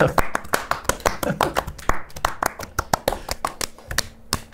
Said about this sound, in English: Can you just clap?